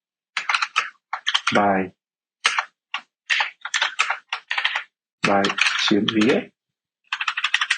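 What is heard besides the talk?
typing a project title on a computer keyboard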